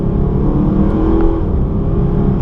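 A Mercedes SLS AMG V8 drones loudly and continuously from inside the car, a steady engine note under acceleration with little variation, no speech.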